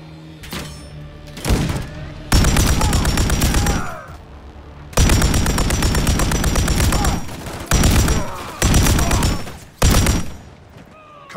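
Automatic rifle fire in the military shooter Call of Duty: Modern Warfare 3, a snowy tundra firefight with several long loud bursts separated by short pauses, ending in quick shorter volleys.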